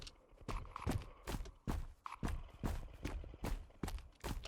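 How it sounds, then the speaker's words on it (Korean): Steady, evenly spaced footsteps thud in a quiet horror game, In Silence, each step a soft, low impact in a walking rhythm, fairly faint against a hushed background. "발소리 들렸는데 여기서"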